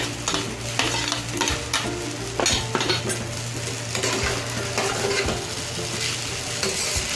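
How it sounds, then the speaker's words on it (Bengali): Continuous sizzling in a pan with repeated scraping and clinking of a spatula against metal as fried potatoes and egg are stirred and tossed, close and moderately loud. "এবার আমি ওর মধ্যে আলু ভাজা আর ডিম ভাজাটা মিক্স করে দেবো"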